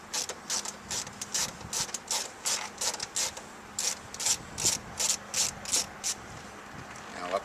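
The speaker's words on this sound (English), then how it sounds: "there's another 7mm screw here, and we're going to remove this one as well." Repeated ratcheting clicks from a tool backing out a 7mm screw under the handhold of a GMC Sierra or Chevrolet Silverado interior panel, in steady bursts close by, with no talk.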